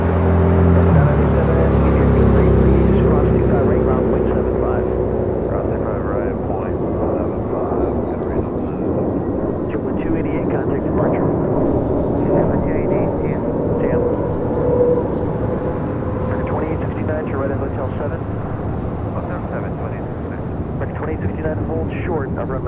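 A JetBlue Airbus A321neo airliner departing LAX for Boston produces a loud, sustained jet engine roar with rumbling low end that slowly fades over about twenty seconds, with wind buffeting and voices talking over it.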